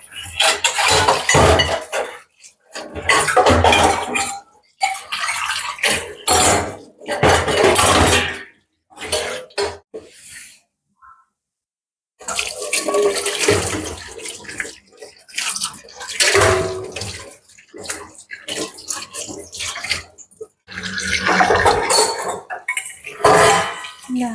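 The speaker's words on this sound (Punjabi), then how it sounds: "ਭਾਂਡੇ ਵੀ ਮੈਂ ਮਾਂਜ ਲੈਣੀ ਜਿਹੜੇ ਦੋ ਰਹਿ ਗਏ" Running water and clattering dishes and cutlery ring out loudly as the last couple of dishes are scrubbed by hand, in bursts broken by short silent gaps.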